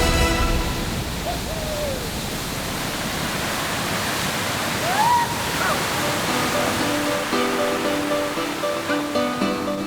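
Waterfall on the Raundalen river roaring steadily and loudly for the whole stretch as a kayaker runs it, with brief tonal music-like swoops over the broadband rush.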